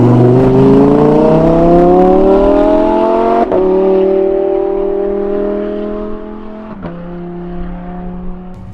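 A Lamborghini Huracan V10 fitted with a Supersprint exhaust revs loudly and steadily close by, its pitch climbing and then dropping back in distinct steps between gear changes.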